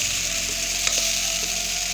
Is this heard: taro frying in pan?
yes